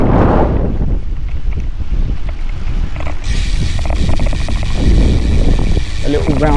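Wind buffeting a microphone during a bike ride in Kingston, a continuous loud low rumble and roar that stays heavy throughout, with a hissier gust partway through.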